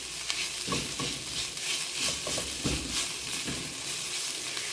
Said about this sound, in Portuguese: Então, nós vamos refogar bem.